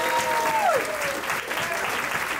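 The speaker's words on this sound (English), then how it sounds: "Keep clapping for Salman" A comedy festival audience applauds steadily after a stand-up set, a continuous wash of clapping with a brief tone sliding down near the start.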